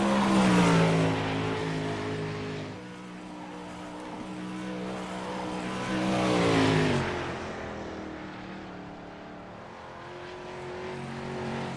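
Race car engine at Volusia Speedway Park, a loud roar with rising and falling revs as the car accelerates, backs off and accelerates again, with harmonic engine tones and no voices.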